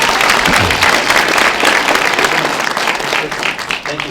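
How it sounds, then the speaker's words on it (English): Applause from an audience at a storytelling workshop, a dense, steady patter of many hands clapping close by for about four seconds. "So a little bit bigger applause"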